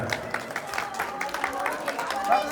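People at a family gathering clap for the sister-in-law, a rough patter of applause running under a speaking voice and rising slightly near the end.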